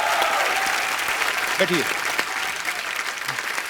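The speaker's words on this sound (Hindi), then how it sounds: "दोनों के लिए जोरदार तालियां।" Studio audience applause greets two guests on a Hindi comedy talk show, a broad steady wash of clapping throughout with a host speaking briefly over it.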